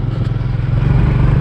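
A motorcycle engine runs in a steady, loud, close low rumble with a rough, slightly uneven throb.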